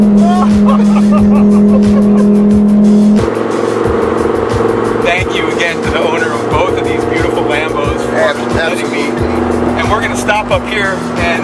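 A Lamborghini Gallardo or Huracan engine roars loudly on a test drive, a steady drone that shifts and revs with gear changes, heard from inside the car while people talk excitedly over it.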